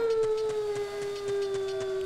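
A single long, steady wolf howl from a Zelda game at Lon Lon Ranch holds one sustained tone at moderate loudness, while faint rhythmic background music pulses underneath.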